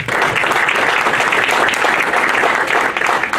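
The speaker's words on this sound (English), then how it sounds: "So please give them all a round of applause." An audience at a humanitarian dialogue foundation's anniversary and award ceremony claps steadily, a dense, even wash of applause that holds at full volume throughout.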